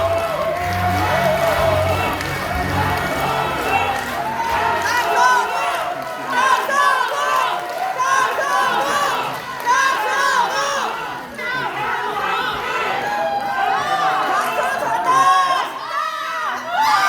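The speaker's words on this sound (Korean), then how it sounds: "뜨거운 박수로 맞아주시기 바랍니다" A crowd at a party's provincial convention cheers, whoops and claps as candidate number 2 for the supreme council is welcomed. Loud, continuous crowd noise with voices shouting, and an amplified voice speaking over it.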